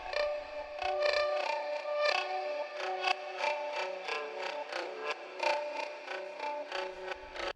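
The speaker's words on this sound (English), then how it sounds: "I ran it through the Hologram Chroma console pedal, which is providing all sorts of glitchy effects" Strummed acoustic guitar chords run through a Hologram Chroma Console pedal, warped by glitchy, distorted effects, with stuttering bursts and a dense, buzzy texture played steadily throughout.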